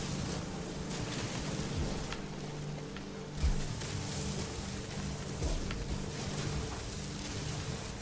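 Steady rain hiss from a raging storm in the video game No Man's Sky, with low rumbling thunder swelling faintly underneath, one deeper thump standing out, constant and fairly quiet throughout.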